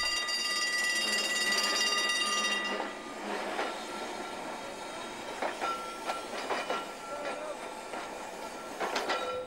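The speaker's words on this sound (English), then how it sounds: "Another of the island's rail attractions is the Snaefell Mountain Railway" Original 1875 electric car of the Snaefell Mountain Railway on the Isle of Man, running from Laxey toward the summit, with a steady rolling rumble, then quieter wheel clicks and squeals, heard at moderate distance.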